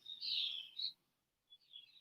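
Birds chirp outdoors in quiet surroundings, a cluster of bright, close tweets followed by a short pause and then a few fainter calls.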